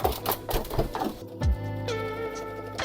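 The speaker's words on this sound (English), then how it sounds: "Then I'm going to sew down the pockets right here." A sewing machine stitches down the pockets on a sun dress skirt panel, with close, busy mechanical clatter and a shift partway into a steadier humming run.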